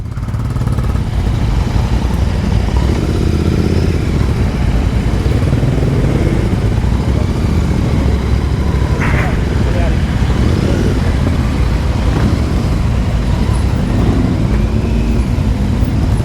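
A Royal Enfield motorcycle rides along a country road toward a small village, its engine and wind noise forming a steady, loud rumble throughout, with a voice talking over it at times.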